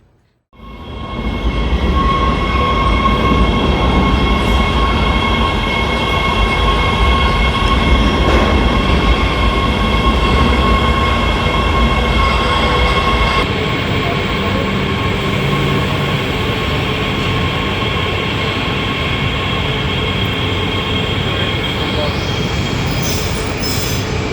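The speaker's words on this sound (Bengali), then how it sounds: "কিছুক্ষণ পরেই আমার ট্রেন ঢুকে গেছে প্ল্যাটফর্মে" A Los Angeles underground metro train rolls into a platform with a loud, sustained rumble and high metallic wheel squeals, echoing for over twenty seconds.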